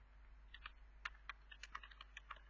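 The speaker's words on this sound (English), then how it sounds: "So I'm just typing" Quiet, close typing on a computer keyboard, a loose run of light key clicks over a low electrical hum.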